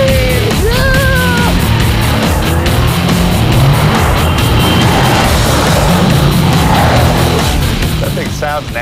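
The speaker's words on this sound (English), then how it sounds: "I can hear your exhaust through my earpiece." A 2012 Dodge Challenger SRT8 on a test drive, its engine and exhaust roaring loud and constant with a rough, dense rumble, some whining tones rising over it early on.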